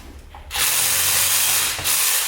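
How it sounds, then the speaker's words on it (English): Dewalt one-handed reciprocating saw fitted with a Lee Valley arborist-grade razor tooth blade, running loud and steady close up for nearly two seconds with a brief dip near the end, after a quiet start. "this handy dandy razor tooth saw from Lee Valley that is an arborist grade saw head that fits in these reciprocating saws"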